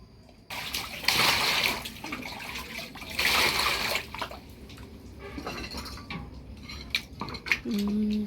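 Dishes and cups being washed under running water, with ceramic and cutlery clinking and clattering, surges of splashing water and a sharper knock near the end, all close by.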